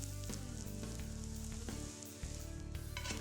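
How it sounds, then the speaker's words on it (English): Onions cooking down in a hot pan, giving a continuous close sizzle with a brief dip near the middle and a faint scrape or two, no voices. "Place your onions into the pan and begin to cook them down."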